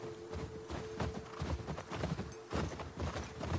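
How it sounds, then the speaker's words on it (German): Horse hooves clip-clop in The Last of Us Part II as the horse walks, a steady close rhythm of hoof beats over a soft outdoor game ambience. "Gehen wir jetzt erstmal wieder auf unser Pferd zurück."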